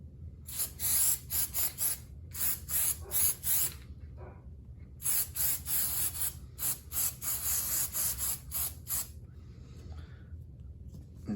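Contact cement is sprayed from a spray gun in short repeated hissing bursts, close and loud, with brief pauses between them over a low steady background hum in a workshop.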